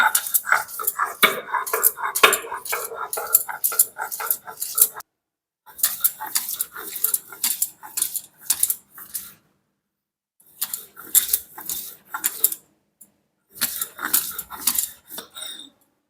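Hand-grinding a spice paste of ginger, garlic, onion, green chilli and coriander leaves, heard as rhythmic scraping strokes in close bursts, with short pauses between rounds.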